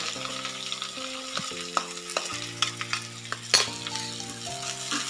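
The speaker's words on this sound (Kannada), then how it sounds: "ಈಗ ಎಣ್ಣೆನ ಸೇರಿಸಿ ಸ್ವಲ್ಪ ಅದನ್ನು ಫ್ರೈ ಮಾಡ್ಕೊಳ್ಳೋಣ. ಆಮೇಲೆ ಹಚ್ಚಿಟ್ಟಿರೋಂಥ ಒಂದು ಈರುಳ್ಳಿಯನ್ನು ಸೇರಿಸ್ಕೊಳ್ಳೋಣ." Chopped onion fries in hot oil with a continuous crackling sizzle up close, broken by sharp metallic clinks and scrapes of a spoon against the pan.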